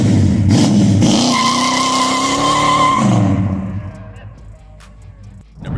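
A powerful muscle car engine roars loudly, holding a high rev with a squeal, then drops away as it fades into the distance.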